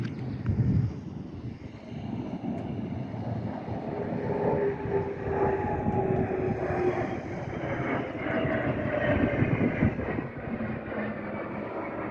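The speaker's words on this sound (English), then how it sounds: "in between the slight interlude of the aircraft show" A propeller airplane from an aircraft show passes overhead, a broad droning roar that swells and slowly shifts in pitch over about twelve seconds, moderately distant and heard alone over outdoor background.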